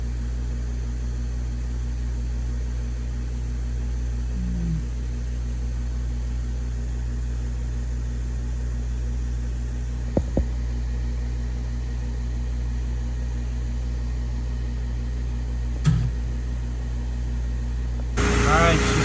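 A compressor runs and pumps with a steady low mechanical hum throughout, joined by a few clicks and a brief clatter near the end, while a person talks over it.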